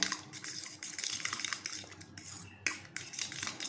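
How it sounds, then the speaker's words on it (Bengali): Fork or whisk beating an egg with salt and garam masala in a bowl, rapid rhythmic clinking and tapping against the sides, close and continuous with short pauses. "এখন খুব ভালো করে ফেটিয়ে নেব"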